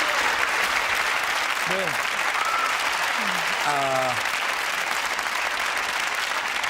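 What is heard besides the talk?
audience applause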